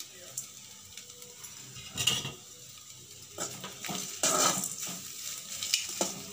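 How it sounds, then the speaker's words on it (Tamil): Boiled, mashed potatoes and salt are stirred in a pan for a Tamil-style potato curry, giving scattered scraping and clinking of a spoon against metal over a soft sizzle, close by, with intermittent talk. "இப்போ நல்லா கிளறி விட்டுக்கோங்க"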